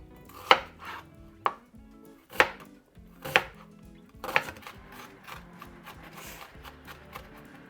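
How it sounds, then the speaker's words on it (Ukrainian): A knife finely chops onion on a cutting board during soup preparation, with sharp, evenly spaced thuds about once a second, close and clear, followed by softer scraping. "І дрібно нарізаємо цибульку."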